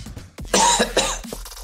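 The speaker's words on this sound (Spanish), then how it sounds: "Entonces sí se oyen las toses." A person coughs hard in a few quick rough bursts, loud and close, with a throat-clearing edge and no talk.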